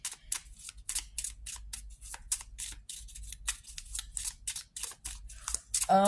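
Tarot cards are shuffled and drawn from a deck close by. There is a steady run of crisp, rapid flicks and snaps, with a brief rustle at the end and no talking.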